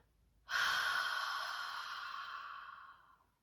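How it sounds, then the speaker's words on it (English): A single long, deep cleansing exhale from the belly, a close, airy sigh that begins abruptly and fades over about three seconds in an otherwise quiet room. "taking a really beautiful cleansing breath, nice big belly inhale, expansive inhale, exhale that out"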